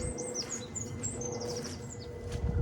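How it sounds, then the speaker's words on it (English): Birds sing in a steady stream of high chirps and whistled phrases over a constant low outdoor hum, with no voices. "It's a lovely bird song."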